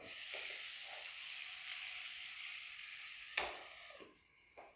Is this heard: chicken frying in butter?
yes